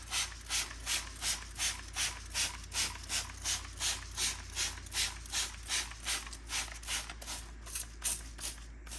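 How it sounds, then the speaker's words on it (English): Trigger spray bottle of JAX Wax wheel cleaner pumped repeatedly at a fast, even rhythm, about two dozen sharp hissing squirts close by, with a faint low hum underneath. "all I'm gonna do now on this other side is spray on the JAX Wax"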